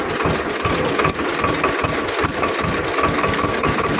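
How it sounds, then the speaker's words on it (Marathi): A tractor engine chugs steadily at a low, rhythmic throb, close and loud throughout, as the tractor is driven slowly along a rough road. "हळूहळू हळू ट्रॅक्टर चालवतो"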